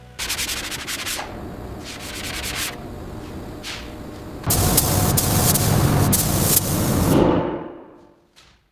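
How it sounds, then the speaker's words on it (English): An abrasive media blasting cabinet strips old coatings off Lexus LX470 aluminum alloy wheels, producing harsh hissing bursts that start and stop in short blasts before a longer loud spray fades out. "Inside the blasting cabinet, high-pressure media rapidly removes the old coatings, revealing the clean aluminum underneath."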